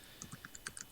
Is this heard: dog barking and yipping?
no